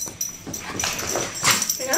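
A dog whimpers and yips in a series of short, high, strained cries mixed with breathy noise, close and fairly loud, with a person talking at the same time.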